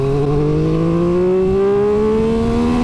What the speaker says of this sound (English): Listen to the airbox noise.